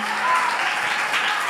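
A church congregation applauds during a Tamil sermon, giving a short burst of mixed clapping with crowd noise and a voice briefly audible over it.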